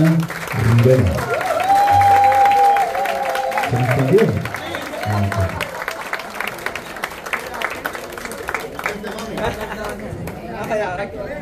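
Concert audience at Bellas Artes in Santurce applauds for a singer, clapping and cheering under loud music and voices at first, then thinning into scattered claps and crowd chatter.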